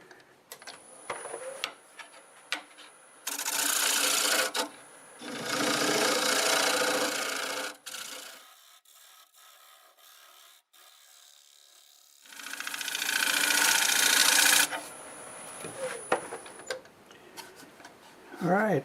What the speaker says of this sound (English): See if I can clean this up with the negative rake scraper.